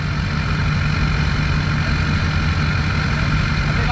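A stock LBZ Duramax diesel truck engine, tuned to run 4200 RPM, runs with a steady, loud, continuous low rumble throughout, with the AC running too.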